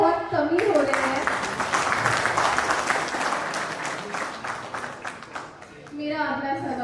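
Audience applause at a Birsa Munda 150th birth anniversary celebration, a crowd clapping steadily for several seconds, a voice speaking at the start and the end.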